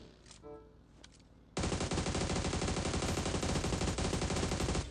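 A sustained burst of automatic gunfire aimed at a moving car's tires in PUBG Mobile, breaking in suddenly after a quieter opening and holding loud and dense for about three seconds before cutting off.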